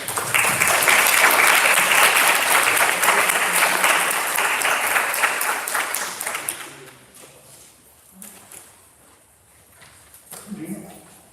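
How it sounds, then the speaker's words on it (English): Sustained audience applause fills a hall at a veterinary students' symposium general assembly in Morocco, loud and dense for several seconds before fading into quiet room noise with faint murmurs. "So let's give a round of applause for them."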